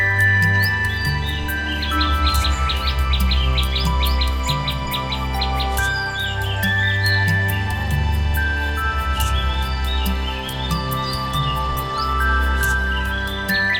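Purple sunbird giving repeated thin, high chirps and short trills over steady low background hum, with other calls faintly mixed in across the whole stretch.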